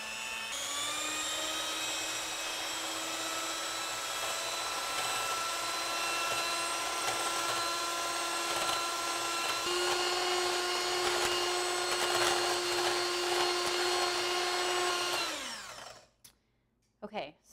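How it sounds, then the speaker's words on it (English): Handheld electric mixer whisking eggs toward stiff peaks in a bowl, a steady loud motor whine running continuously with a slight pitch shift midway, then winding down and stopping near the end. "you can use either a standing mixer or just an old-school handheld mixer like this. And we basically want to whisk our eggs up to a stiff peak"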